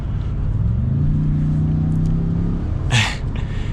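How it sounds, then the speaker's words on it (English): The engine of a 2022 Ford F-150 EcoBoost truck in sport mode gives a steady low drone as it pulls hard, heard from inside the cab, with a short sharp noise near the end. "I think the engine is slightly tuned different to where there is a little bit more grunt when you're in this mode, in the EcoBoost at least."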